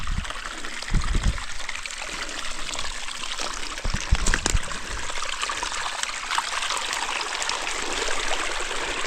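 A river runs swollen after Hurricane Helene, its steady rushing and trickling water continuing close and fairly loud for the whole stretch, with a few brief splashes and bumps near the mic.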